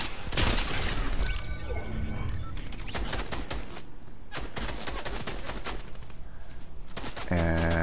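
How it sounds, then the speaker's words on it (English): Gunfire in the video game Fortnite sounds as loud, dense bursts of rapid shots and booming impacts. Sharp cracks stack on top of one another almost without pause, with a brief musical tone near the end. "Probably should have died here as he is shooting all around this bush"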